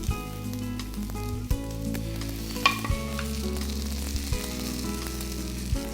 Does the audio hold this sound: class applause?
no